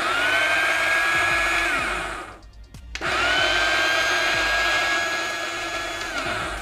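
A Welhome ZD-10T electric coffee grinder whirs loudly and steadily, pauses briefly, then starts grinding again with the same harsh motor whine.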